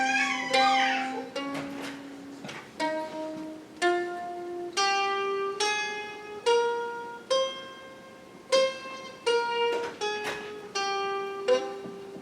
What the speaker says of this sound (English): So it sounds like, the scale sounds like this.